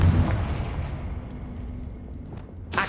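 Confringo fire spell in the video game Hogwarts Legacy, a booming explosive blast that decays into a rumbling tail, with a sharp burst near the end.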